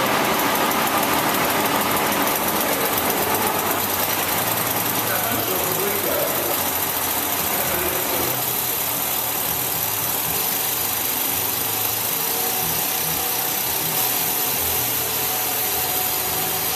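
A CubeSat satellite vibration-test shaker rattles, ramping up in frequency: a steady, dense mechanical rattling and buzzing vibration drones continuously, with a busy broadband clatter that stays loud throughout.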